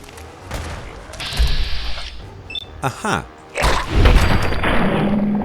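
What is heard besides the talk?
gunfire in a video game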